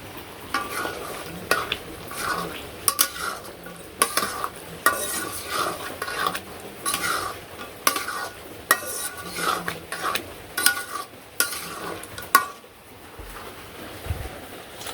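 Fish curry with cumin and sugar is stirred in a pan on a village kitchen stove, with repeated metal spatula scrapes and clinks against the pan over a soft sizzle, in irregular bursts and with no voices.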